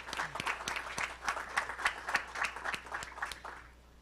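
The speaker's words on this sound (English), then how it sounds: "Another big applause for you." An audience applauds a speaker at a legal tech venture day event, a burst of distinct hand claps at moderate distance that thins out and fades near the end.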